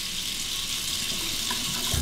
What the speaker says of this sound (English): Let's warm up the razor under the hot water.